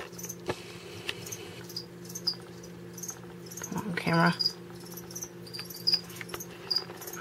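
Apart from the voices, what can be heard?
cricket chirping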